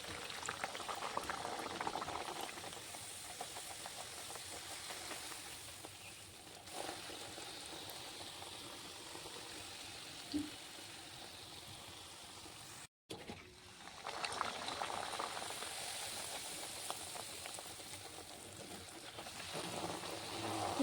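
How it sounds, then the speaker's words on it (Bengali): Rolled pea-stuffed kochuri fry in hot oil in a wok, making a long, even bubbling sizzle that stops for a brief moment near the middle, with no talking. "এরপর আমি তেলে ভেজে নেব।"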